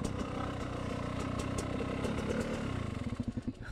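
A motorcycle engine, a KRY 200, runs steadily up close with an even mid-pitched putter, then loosens near the end into distinct, slowing pulses as it settles toward idle.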